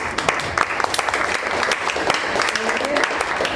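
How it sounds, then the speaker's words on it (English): Audience applause at the Cannes Film Festival, a dense, steady patter of many hands clapping at even loudness for the whole stretch, with some voices mixed into the clapping. "So please, the round of applause to Constance."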